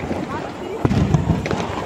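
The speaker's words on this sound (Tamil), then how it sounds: "அது வந்து பட்டாசு வெடிக்கிறதுனால காதை மூடிட்டு சவுண்டெல்லாம் கேட்குது, மேலெல்லாம் வெடிக்கிறாங்க" Diwali firecrackers burst in a family celebration, with a cluster of sharp, fairly close bangs and crackles in the middle amid ongoing background noise, while people talk throughout.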